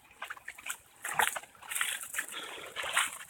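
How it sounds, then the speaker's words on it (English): Creek water floods a yard after heavy rain, rushing and splashing close by with an uneven trickling and sloshing texture. No one speaks. "A rushing creek in my yard."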